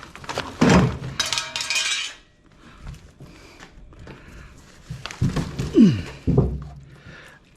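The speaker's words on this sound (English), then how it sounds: "Catch pan for the condensate" A metal condensate catch pan from a scrapped home HVAC unit clanks and rattles as it is handled, with a few sharp metallic clinks and thuds between quieter shuffling.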